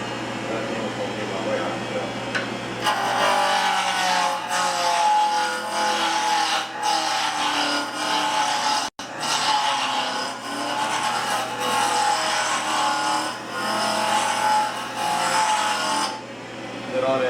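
A wood lathe turning a goblet, a continuous close rasping whir as a cutting tool rubs the spinning wood, holding steady with a brief break midway and a motor hum underneath.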